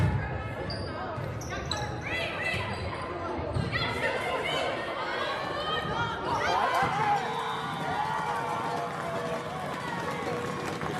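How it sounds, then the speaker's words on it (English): Home crowd at a women's volleyball match cheers and chatters steadily, with sneaker squeaks, ball thumps and shouts rising through the noisy gym. "Hear the home crowd, Les Rouges, getting fired up, excited for this matchup"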